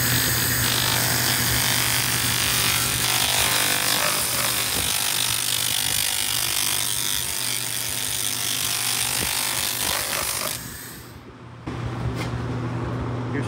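A 2000 W continuous wave laser cleaner works over welded steel, giving a loud, steady, hissing buzz that runs almost without a break, cuts out briefly near the end, then resumes.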